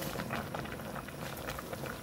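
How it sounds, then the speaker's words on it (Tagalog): Pangat tilapia stew, a Kapampangan fish dish, bubbles at a rolling boil in a pot, a dense, continuous close burbling and popping with no voices. "Kumukulo na po ang ating pangat na tilapia."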